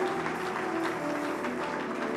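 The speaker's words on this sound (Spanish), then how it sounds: "Le damos un fuerte aplauso al Señor en esta mañana." Church congregation clapping during a Spanish-language service, a steady, even wash of applause that holds at one level throughout, with a low sustained tone underneath.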